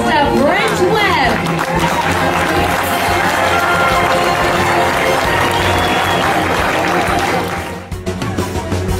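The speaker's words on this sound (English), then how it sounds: "give her some applause" An audience claps and cheers for a volunteer at a mentalist show, dense sustained applause with crowd noise and voices that tapers off near the end.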